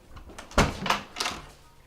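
Three firm knocks land on a door at an even pace, each a hollow, dull thud, close and clear, with quiet room tone between them.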